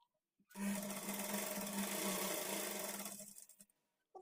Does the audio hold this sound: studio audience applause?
no